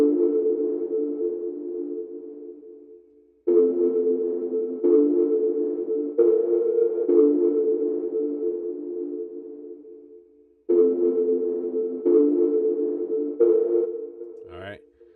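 Mellow synth chords cycle through a progression, each sustained chord starting sharply and fading slowly in repeating phrases, with no talking over it.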